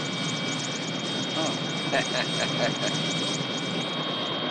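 Helicopter engine droning steadily in the background at moderate distance, a faint rhythmic rotor beat rising briefly, with people speaking over it.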